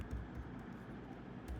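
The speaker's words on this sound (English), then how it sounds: "consider that I'm typing one by one, h e l l o" Someone types on a computer keyboard, pressing keys one by one to spell a short word. The soft, faint clicks are spaced apart over a low background hum.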